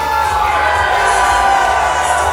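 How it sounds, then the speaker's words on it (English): A dense live wrestling crowd cheers and roars steadily throughout an indoor independent wrestling event, loud and unbroken, with no clear voices standing out. "this crowd is unbelievable here tonight"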